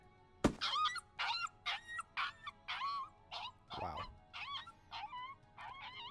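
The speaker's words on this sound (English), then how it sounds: "The dog's ears perked up, and she started carefully moving closer." A dog in a horror visual novel game gives a string of about a dozen high, whining whimpers in short bursts, close and clear, with one brief spoken exclamation among them.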